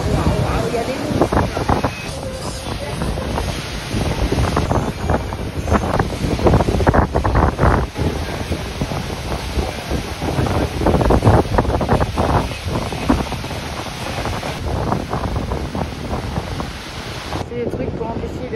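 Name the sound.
huge ocean waves during a storm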